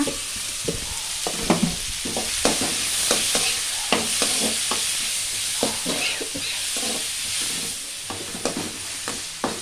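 Onions frying in a pan for a spicy crab fry gravy, with a steady sizzle and repeated close stirring scrapes in an irregular rhythm throughout.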